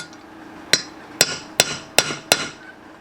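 Five sharp metallic hammer strikes ring out close by as a bearing race is driven into a camper trailer wheel hub, evenly spaced, each blow bright and clanging on metal.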